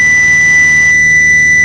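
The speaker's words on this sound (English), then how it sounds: "That beep, that's a disconnect, so you got to hit it on again." An aircraft autopilot disconnect warning sounds as a steady, piercing electronic tone held for the whole stretch over a constant engine drone in the cockpit.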